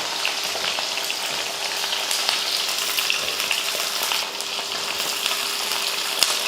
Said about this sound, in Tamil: இப்போ நம்ம எண்ணெயும் காஞ்சிருச்சு, தாளித்து விட்டுறலாம்.